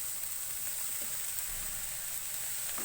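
Fried chicken gets stirred into rice in a pan for chicken fried rice, a steady even sizzle with faint mixing sounds, close and fairly quiet with no talk.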